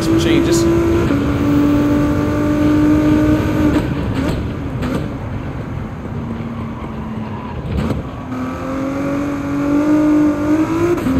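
A mid-engine race car engine in Gran Turismo 7 drones and shifts pitch through gear changes, heard steadily under someone talking throughout.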